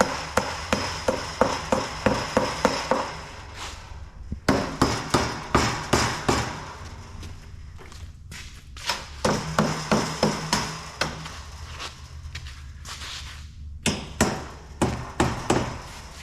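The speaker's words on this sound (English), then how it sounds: "Got my carpenter's hammer." A carpenter's hammer strikes pallet wood in quick, regular bursts of blows separated by short pauses, each hit sharp and close.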